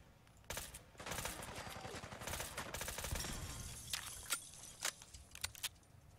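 A suppressed MAS-38 submachine gun in Fallout 4 fires several quick, muffled bursts of automatic gunfire, faint and clattery, with short gaps between volleys.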